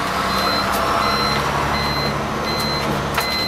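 Repeated electronic reversing beeps from a truck backing up, sounding in a steady intermittent rhythm over continuous engine rumble, fairly loud and close, with no talk.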